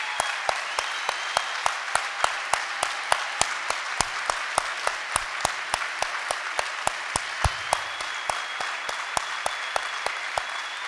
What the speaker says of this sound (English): let's give them applause for this wonderful achievement